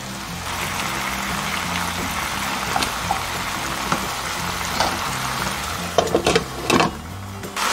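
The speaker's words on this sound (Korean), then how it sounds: "지금은 왕갈비 조림이 되고 있습니다." Beef short ribs braise in a pan, giving a continuous close sizzle with soft bubbling and liquid crackle, broken near the end by a few louder clatters and scrapes.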